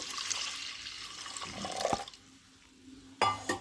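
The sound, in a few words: water poured into washed moong dal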